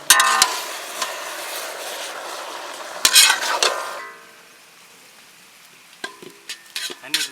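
A spoon scrapes and stirs through Malabar chicken biryani in a pot, Kerala style, with sizzling frying, clanks against the metal in loud bursts and then quieter taps near the end.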